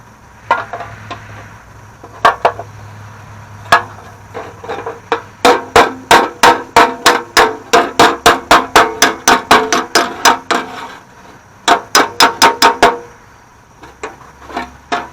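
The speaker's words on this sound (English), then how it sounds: "that ain't nothing that a hammer and dolly won't take care of" Hammer and dolly ringing on a steel rocker panel of a 1989 Mustang GT, sharp metallic strikes in scattered pairs and then quick steady runs, loud and close with brief pauses between bursts.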